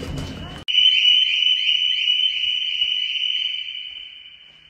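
An alarm rings as a steady, piercing electronic tone that cuts in abruptly after a brief rustle and continues loud, slowly fading toward the end.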